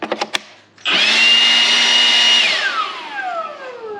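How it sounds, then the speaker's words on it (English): A leaf blower clears out a hay mow: after a few clicks, the motor whines up suddenly and runs loud and steady at close range, then its pitch sags and drops as it winds down. "And he's also gonna have the leaf blower."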